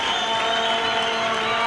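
A large crowd at a diving world championship cheers after a reverse 1.5 somersault pike dive, a steady loud roar of voices with applause mixed in, filling the whole moment without a break.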